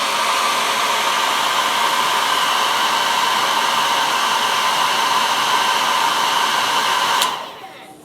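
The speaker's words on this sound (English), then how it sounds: "Dry a little bit with the hairdryer and see what happens." Hairdryer blowing on alcohol ink, a loud steady whooshing roar held close for about seven seconds before it switches off and fades.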